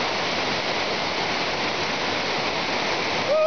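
A twin waterfall at Lake Toba in the Sumatran mountains pours with a steady, loud, broadband roar, close and unbroken throughout.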